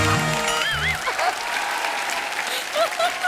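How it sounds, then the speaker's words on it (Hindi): Studio audience applause on a comedy show, clapping running under someone speaking and bright musical stings, moderately loud and steady. "मेरे लिए ताली मत बजाओ बिड़ू, इन लोग के लिए बजाओ।"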